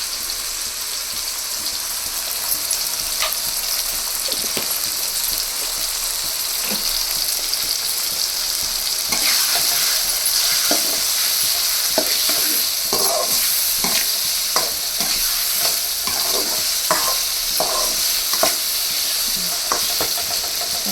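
Tomatoes fry with turmeric in a pan for chicken curry, a steady close sizzle punctuated by repeated scraping and clinking stirs that grow busier toward the end, with no voices.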